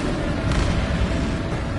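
Bombarda spell explosion in the Hogwarts Legacy video game, a loud, dense burst of rumbling blast noise with a sharper hit near the middle, filling the whole short stretch.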